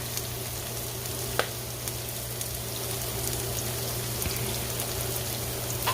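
Callaloo and saltfish frying in a pan over medium-high heat, a steady close sizzle with soft crackles and a couple of small taps, continuous throughout with no talk.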